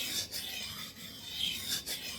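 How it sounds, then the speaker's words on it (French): A seven-inch Schrade knife drawn across a well-soaked whetstone, giving a dull, close rasping rub in repeated strokes with short pauses between passes. "Là, vous entendez la pierre, elle a un bruit assez sourd"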